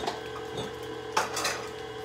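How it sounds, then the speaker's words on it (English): A spatula scrapes and taps around a bowl of banana nut bread batter in a home kitchen, with a few close scraping strokes and one sharper knock partway through, and no talking. "Get my trusty little spatula and get this stuff out of my way"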